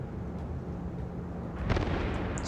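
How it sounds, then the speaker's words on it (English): Scharnhorst battleship guns firing in World of Warships: a low rumbling boom rises partway through over a continuous dull background roar, heavy and somewhat distant. "Shots coming in from the Scharnhorst, setting the North Carolina on fire."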